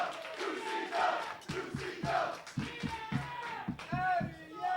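A professional wrestling crowd at an indoor show roars and cheers continuously, loud and near, with rhythmic chanting and shouting voices rising through the din and someone talking over it.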